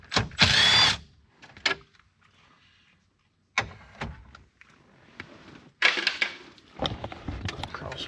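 A power drill backs out 7mm screws on a Ford Crown Victoria being built as a racecar, giving several short whirring bursts separated by pauses and clicks, close and fairly loud.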